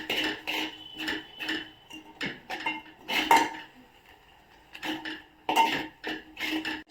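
A spoon scrapes and knocks against a pan while tomato rasam masala is stirred, a steady series of close metallic clinks and scrapes in irregular bursts, with no voices.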